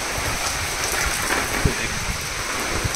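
Heavy rain pours steadily at night in Delhi NCR, a dense hiss with scattered heavier drops and splashes striking nearby surfaces, heard close and continuous.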